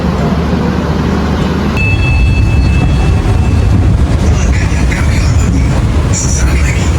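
Passenger train rolling into track 7 at Jatinegara station, heard from inside the car as a loud continuous rumble with rattling and a brief high metallic squeal, wheel noise steady throughout.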